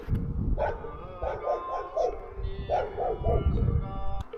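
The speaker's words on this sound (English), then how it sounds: "The dogs are not happy with me" Several dogs bark near a small hillside temple close to the North Korean border, with two clear bursts of repeated barks and yips, some whimpering, over steady outdoor background noise.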